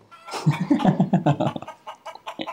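A person imitates a chicken, producing a run of rhythmic clucks and chortles, close and fairly loud, tapering into scattered softer clucking.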